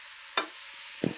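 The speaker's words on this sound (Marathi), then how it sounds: "कमी गॅसवर हलवत राहायचे सारखं, करपू नये." Coconut barfi mixture is stirred in a hot pan over a low flame, giving a few brief scraping strokes against a soft sizzle.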